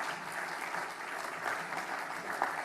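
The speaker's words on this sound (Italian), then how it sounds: "raccolgono il vostro primo saluto, il vostro primo applauso" Audience at a convention applauding musicians as they come on stage, a continuous, even wash of many hands clapping, heard from a little distance and fairly soft.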